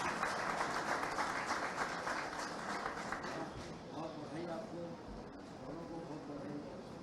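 An Indian audience claps at an education excellence award ceremony as a teacher award is announced, with dense applause at first that thins out while an announcer speaks over it.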